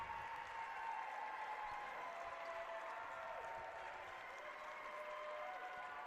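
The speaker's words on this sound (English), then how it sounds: "The band's both clapping." Steady, faint clapping from a band and fans in the stands at a women's college basketball game, a continuous distant patter with crowd murmur and no clear talk.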